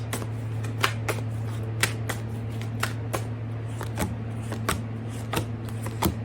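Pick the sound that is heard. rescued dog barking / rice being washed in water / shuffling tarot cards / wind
shuffling tarot cards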